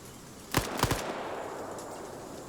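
Two quick gunshots crack in close succession in a multiplayer military video game, sharp and fairly loud, then a quiet ambient background.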